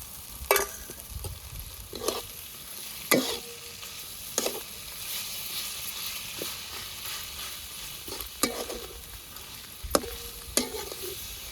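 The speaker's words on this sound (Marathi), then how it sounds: "आता मी कांद्यामध्ये याच्या लसूण सगळ्यांमध्ये मी टाकून देते तेलामध्ये परतू परतू घेते" Onion and garlic frying in oil for Maharashtrian baingan bharta, with a spoon stirring the pan in sharp scrapes about every second or two over a steady soft sizzle.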